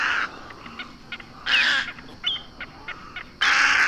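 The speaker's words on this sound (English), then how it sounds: "it has a page for snowy egret sounds" Snowy egret call played back from a recording: loud, harsh croaking bursts in three clear blasts, with fainter squawks between them and no talk over it.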